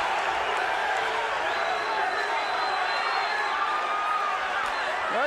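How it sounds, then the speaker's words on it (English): Arena crowd at an MMA bout between Tank Abbott and Oleg Taktarov, a dense roar of many voices with chanting and cheering throughout and a commentator talking over it. "The crowd is chanting USA,"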